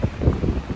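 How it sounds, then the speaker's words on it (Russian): Strong wind gusts through the rain, roaring roughly across the microphone in a loud, unsteady burst. No voices are heard. "Дождь, такой ветер"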